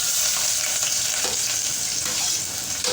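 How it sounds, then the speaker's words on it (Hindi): Chopped onions drop into hot oil in a home kitchen and fry with a steady, close, continuous sizzle and crackle that holds level throughout, with no talking. "अब मैंने ऑयल गर्म किया है, मैं डालूँगी इसको। यहाँ पर सबसे पहले हम लोग प्याज डालेंगे।"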